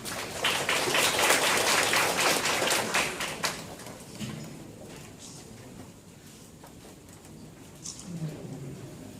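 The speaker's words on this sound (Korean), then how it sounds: "힘찬 박수 부탁드리겠습니다" An audience at a job-creation seminar claps for the speaker being introduced. The applause is dense and fairly loud for about three seconds, then thins out and gives way to murmured talk and room noise.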